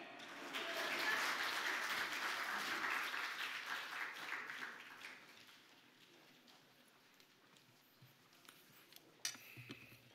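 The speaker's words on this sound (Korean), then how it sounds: "우리 믿음교구 식구들께 우리 박수 한 번 더 할까요?" Church congregation applauding during a Sunday afternoon worship service, a full burst of clapping that swells early, then thins and fades away over several seconds, leaving quiet room sound with a few scattered claps.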